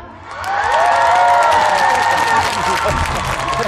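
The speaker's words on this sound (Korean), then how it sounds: "사정없이 박수와 함성을 한번 보내주시면 되는데" A crowd at an outdoor festival concert in Uiryeong bursts into sustained applause and loud cheering that swells quickly and holds strong, with shouts and whoops rising above the clapping.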